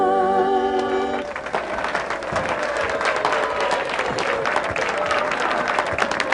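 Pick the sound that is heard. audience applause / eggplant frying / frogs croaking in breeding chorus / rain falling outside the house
audience applause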